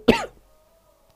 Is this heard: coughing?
yes